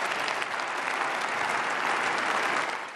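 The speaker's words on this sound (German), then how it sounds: "Beifall für die Bundeskanzlerin zu dieser Regierungserklärung" Applause for the Chancellor in the German Bundestag after a government statement: a broad, sustained wash of clapping from a large chamber audience, fading slightly near the end.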